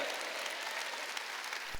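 A church congregation at a Wednesday worship service claps together, a brief, even burst of many hands, steady and moderately loud, with one heavier thump near the end.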